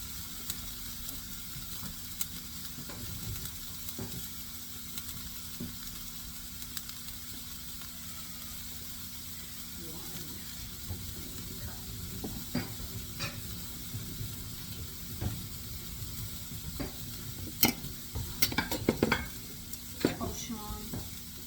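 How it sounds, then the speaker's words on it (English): Onions fry in a pan for a beef ragu, a steady soft sizzle punctuated by stirring scrapes and occasional utensil clinks that grow busier toward the end. "that's going to give flavor to these onions that we're cooking"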